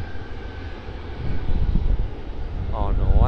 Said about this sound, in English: Jetstar A320, sick of waiting, ready to go.